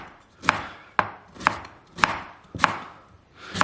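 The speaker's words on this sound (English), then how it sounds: "So I just take it and kind of cut it on a bias." A chef knife slices quartered cabbage on a bias against a cutting board, six crisp, evenly spaced chops close up with a brief crunch after each stroke.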